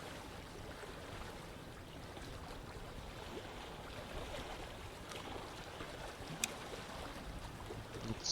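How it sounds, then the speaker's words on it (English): Waves lap softly around a boat drifting in white mist in the game The Dark Egg, a faint, steady wash of water with no other sounds and no voices. "The sound of waves surround you and nothing else."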